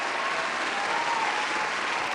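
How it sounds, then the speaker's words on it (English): An audience at a talk show claps, a dense, even wash of applause sustained throughout and fairly loud, with no speech over it. "Round of applause."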